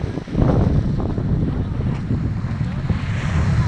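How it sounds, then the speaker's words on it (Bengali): Tide waves rolling in on the Bay of Bengal shore, a loud, continuous rush of surf mixed with heavy wind buffeting the microphone. "হ্যাঁ দারুণ জোয়ার আসছে, তো অনেক জোয়ার আসছে"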